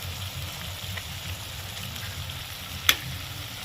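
Beaten eggs with onion frying in a pan, a soft continuous sizzle close by with one sharp metallic tap near the end.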